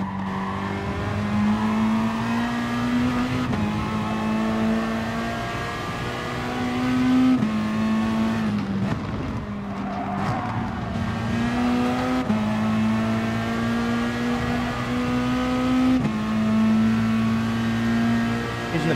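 In the Gran Turismo Sport racing game, a Peugeot RCZ engine drones steadily at speed, with repeated gear shifts and a brief dip in the middle. The sound is loud and continuous, with no voices.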